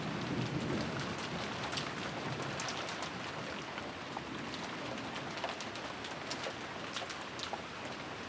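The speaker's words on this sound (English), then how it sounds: "The only voice that called after them was the sound of the rain." Steady rain from the Umineko visual novel pours evenly throughout, with dense hiss and scattered drop patters, close and constant, with occasional bird-like chirps and no voices.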